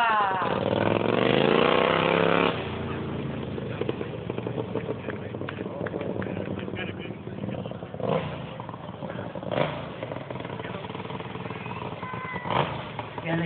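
A racing lawnmower engine revs loudly at a lawnmower race track, starting with a rising snarl and continuing as an uneven rumble, while an announcer talks over it through a PA.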